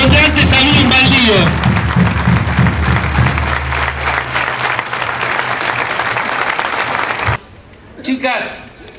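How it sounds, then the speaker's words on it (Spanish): An audience claps loudly and steadily at a school event, with a speaker's amplified voice carrying over the start of the applause before it cuts off and speech resumes. "yo quiero pedirles un fuerte aplauso para la comunidad de Areco"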